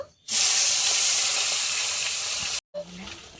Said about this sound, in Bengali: এবার আমি কই মাছ, রূপচাঁদ মাছ একসঙ্গে ভেজে নেব